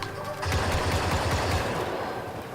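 Blaster fire in the video game Star Wars Battlefront 2 comes as a rapid, close burst of repeated shots over a dense background that fades toward the end.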